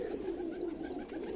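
Pigeons coo from a rooftop loft in a low, steady, continuous murmur with soft rolling pulses, close and moderately loud, with no voices.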